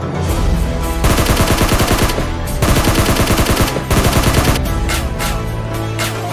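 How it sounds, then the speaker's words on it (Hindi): Gunfire in the PUBG video game, heard in a PUBG short film: rapid, loud bursts of automatic shots come in repeated volleys with brief pauses between them, and no voices are heard. "ये क्या हो रहा है, कहाँ से गोलियां चल रही हैं?"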